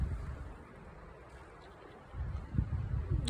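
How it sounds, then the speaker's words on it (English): Strong wind buffets the microphone on Hermits Peak, a mountain summit, roaring in low gusts that swell and drop with occasional rustling. "oh god, it's so windy up here."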